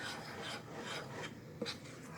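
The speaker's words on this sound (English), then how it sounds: "And we're just going to stir it until combined." Yeast, sugar and water mixture is stirred for brown bread, a soft, faint scraping and rubbing that repeats in slow strokes, with one slightly sharper knock near the end.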